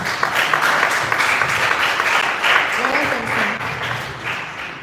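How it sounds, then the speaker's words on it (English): A crowd at a mental health awareness foundation event claps for an introduced guest, a loud, sustained burst of applause with some voices audible underneath. "Let us clap for him."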